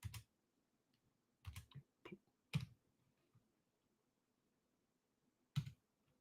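Computer keyboard typing, heard as a few short bursts of soft clicks and taps separated by long quiet gaps.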